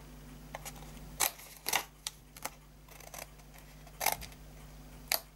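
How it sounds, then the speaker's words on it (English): Scissors cutting card up to a score line while a handmade tea-bag gift box is assembled: several separate, sharp snips spaced irregularly over a faint steady hum, close and fairly quiet. "we're going to cut up to the first score line here"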